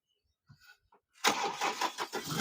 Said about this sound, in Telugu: ఒకసారి బండి కూడా స్టార్ట్ చేసి చూపిస్తానండి మీకు